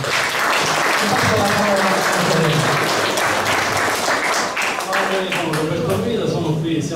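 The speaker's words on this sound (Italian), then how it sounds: "vi prego di fare un grande applauso a Salvatore Cocina." An outdoor crowd at a World Environment Day event applauds steadily throughout, a dense, sustained clapping that stays loud from start to finish.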